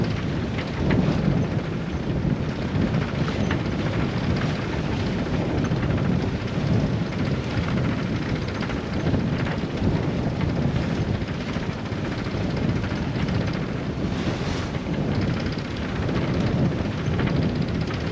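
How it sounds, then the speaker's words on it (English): Strong wind of about 22 knots roars over an anchored boat, a loud, steady, broadband rush with gusty buffeting that never lets up, heard alone without any voices. "It's 22 knots of wind now."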